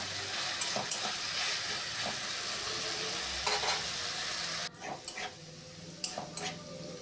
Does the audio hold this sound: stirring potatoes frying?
yes